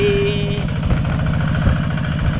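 A repaired farm machine engine running, chugging in a steady rapid rhythm close by, with a brief tonal whine at the start.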